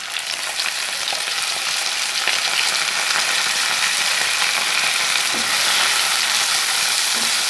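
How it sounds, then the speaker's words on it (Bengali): Potatoes frying in a pan with browned chopped onion, dried chillies and bay leaf make a loud, continuous close-up sizzle, dense hiss and crackle with faint stirring clatter underneath, unaccompanied by speech. "হালকা ভাজা আসছে, এখন আমি আমাদের আলুগুলো অ্যাড করে নেব।"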